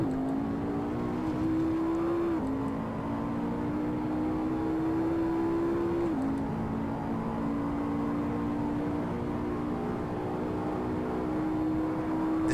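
A race car engine in the Assetto Corsa video game, droning steadily under throttle and climbing through the revs, with two quick drops in pitch at gear changes, loud and continuous.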